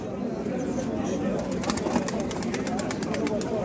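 Pigeons coo softly in the background at an Istanbul bird market while people talk nearby over a steady, noisy backdrop.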